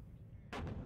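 Artillery piece fires in the WARNO strategy game, a single loud boom cutting in abruptly midway after a quiet low rumble, with a short decaying tail.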